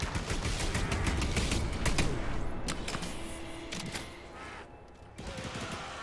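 Rapid automatic gunfire in the game The Anacrusis, dense and continuous for several seconds before thinning into scattered shots, fairly close and loud.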